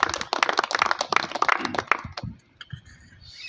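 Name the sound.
audience clapping to welcome a speaker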